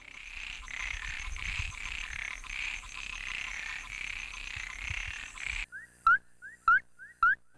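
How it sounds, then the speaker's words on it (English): A frog in Paraguay calls on a dry night: a steady chorus of insects and distant calls gives way to three or four loud, sharp, rising croaks in quick succession close by. "this frog can be heard calling on dry, rainless nights"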